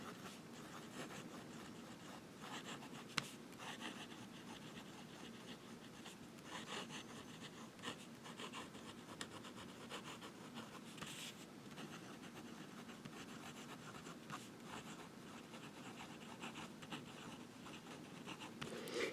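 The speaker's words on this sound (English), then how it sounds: "It just writes really sweet. I love it. Love the nib. Reverse writing." A fountain pen nib writes in reverse on paper, giving a faint, continuous scratching with small ticks and strokes under quiet room noise.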